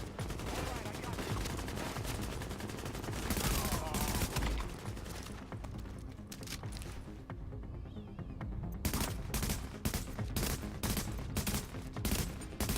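Rapid automatic gunfire from the video game Tom Clancy's The Division during a hostage mission, loud bursts and sustained fire with a short lull, then more shots, amid dense in-game combat noise.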